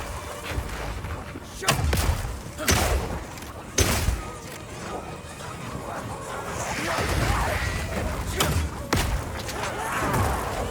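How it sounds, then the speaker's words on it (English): Oil grenades fired in Path of Exile 2, several heavy thumping launches and impacts at irregular intervals over a busy background of splashes and whooshes, with faint voices underneath. "Firing one of these grenades coats the ground and nearby enemies in oil."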